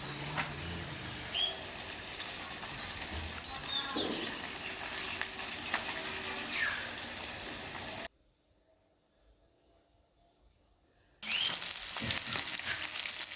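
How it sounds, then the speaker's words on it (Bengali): Hilsa fish pieces frying in oil in a pan give a steady, close sizzle, broken for about three seconds of near silence before the crackling resumes just as strongly. "দেখতেই পাচ্ছ মাছগুলো ভাজা হয়ে গেছে"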